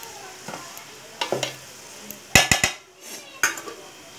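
A metal spoon scrapes and knocks against a pan as a Bengali spice paste fries, with a soft sizzle underneath and a few sharp clanks clustered midway, close and fairly loud with no talking.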